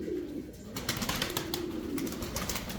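Chinda pigeons, an old Uzbek breed kept in Osh, coo in low, rolling calls repeated through the moment, close by, with light clicks and rustles around them.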